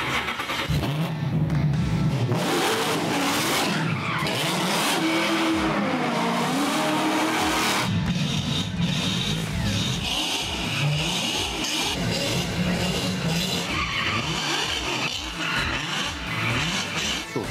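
A Ford Mustang V8 roars and revs hard while drifting, loud and close, with rising and falling engine pitch, tire squeal and a brief shift midway, continuous throughout.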